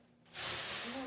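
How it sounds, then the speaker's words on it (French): A glass of water thrown into a hot oven while baking bread bursts into a sudden loud steam hiss that rises sharply and holds steady, with faint background noise before it. "je vais jeter le verre d'eau dans le four pour créer de la vapeur"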